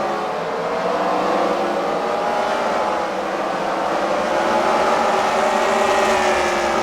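Race cars lap the track at a Freedom Factory fight night qualifying event, a continuous layered engine drone with rising and falling revs from several cars at middle distance.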